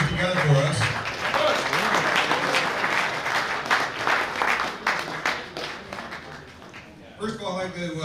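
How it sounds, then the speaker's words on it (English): Audience applause at a marketing company's AEP kickoff event, a broad wash of clapping sustained for several seconds at moderate loudness, with voices mixed in and a speaking voice returning near the end. "Big round of applause for Amber who's put this together for us."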